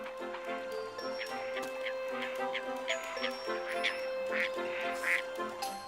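Ducks quack repeatedly in a lively, irregular chorus, moderately close, over a steady background hum.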